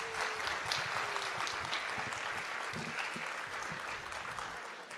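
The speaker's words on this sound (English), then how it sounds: "Give them a round of applause." Sustained applause from an audience at a new student orientation event, dense and steady clapping that fades slightly toward the end.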